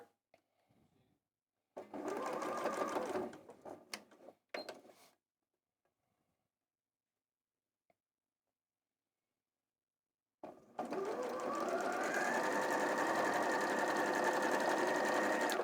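Domestic sewing machine running a quarter-inch seam down the side of a quilt block, two short whirring bursts with a stop between, then a long steady stitching run after a pause, close and alone.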